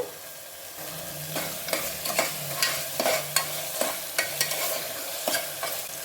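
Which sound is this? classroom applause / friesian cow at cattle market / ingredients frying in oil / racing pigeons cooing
ingredients frying in oil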